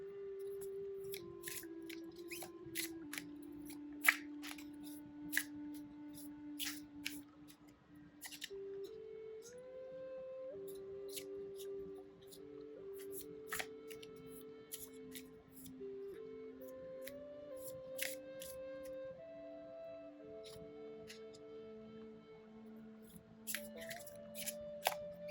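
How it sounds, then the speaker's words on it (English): Tarot cards are shuffled by hand in soft, scattered riffles and taps, quiet and close, over faint background music, with no one speaking. "I'm going to begin shuffling them"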